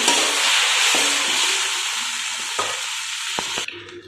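Oil sizzles steadily in a pan as eggs fry for a mashed lentil dish, a loud continuous hiss with a few short clinks of stirring near the end.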